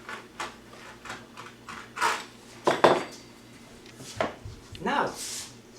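A knife clinks and taps against a metal tray while slicing puff pastry dough into four pieces, several sharp scrapes and knocks spread over a few seconds, with someone speaking between cuts.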